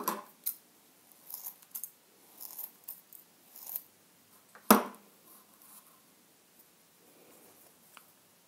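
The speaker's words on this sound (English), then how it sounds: "now I got my scissors, so I can just trim this back" Scissors snip and trim rock wool hydroponic growing cubes for peppers, giving a run of short, soft cutting crunches and rustles, with one sharper clack midway.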